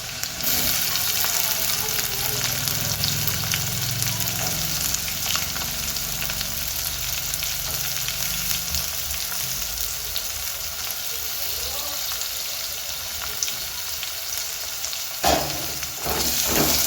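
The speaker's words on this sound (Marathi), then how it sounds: "कांदा लाल करून घ्यायचा आहे, सोनेरी रंगावर परतायचा आहे कांदा" Chopped onion fries in a hot pan on low gas for methi bhaji, giving a steady close sizzle with occasional stirring scrapes and a brief clatter near the end, no voices.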